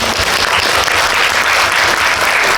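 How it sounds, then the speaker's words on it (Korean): Dense, steady applause from an audience at a film screening Q&A, loud and close, sustained without a break. "박수를 한번 네"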